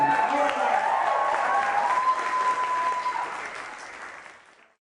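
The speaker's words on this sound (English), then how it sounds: "We need a big cheer, everyone" An audience at a secondary schools' peace symposium cheers and applauds loudly and steadily, with a sustained tone ringing over the clapping before the noise fades out.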